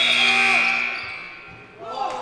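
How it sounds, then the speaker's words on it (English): A loud, sustained electronic buzzer sounds to end a quarter of a boys varsity high school basketball game in a gym, holding steady before fading, with a second shorter tone near the end and a commentator talking throughout. "There was the buzzer."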